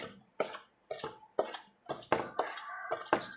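A spoon stirs rava kesari with sugar in a pan, quiet scraping strokes repeating roughly twice a second, each with a faint metallic clink, close and alone.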